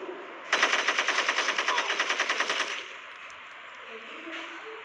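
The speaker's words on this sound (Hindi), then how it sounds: "मशीन गन निकालनी पड़ेगी" Rapid machine gun fire in the Gangstar Vegas video game, a loud close burst of evenly spaced shots lasting about two seconds, then quieter game ambience.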